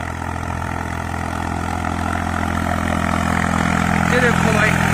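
A New Holland tractor pulls an 8x8 disc harrow through a ploughed field, its engine droning steadily and close with a low, even hum that builds slightly in strength, with no speech over it.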